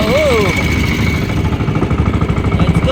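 Two boat engines on a small fishing boat running together, a loud, close, rapid knocking throb that pulses steadily throughout, with a brief whistle-like tone near the start.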